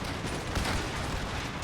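Musket volleys and cannon fire roll through a Netherlands versus New Spain battle in an Age of Empires-style strategy game, forming a dense, steady barrage of overlapping shots with no clear gaps.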